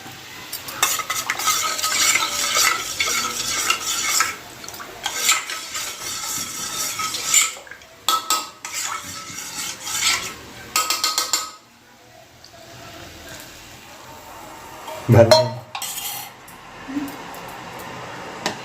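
Payasam stirred in a pot with a spoon, rhythmic scraping and light metal clinks in bursts with pauses, close and moderately loud, with a brief knock near the end.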